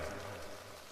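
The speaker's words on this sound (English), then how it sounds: "The rain is getting heavier" Heavy rain pours in a continuous, dense patter of drops on surfaces. It is fairly soft and even, a little louder at the start, and no voices are heard.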